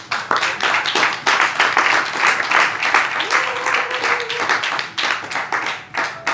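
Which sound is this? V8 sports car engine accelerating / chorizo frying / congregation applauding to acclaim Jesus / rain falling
congregation applauding to acclaim Jesus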